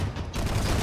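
Flak fire in the Planetside 2 game during air combat over Amerish, heard as a dense, loud burst of rapid explosive pops that fills the whole short moment.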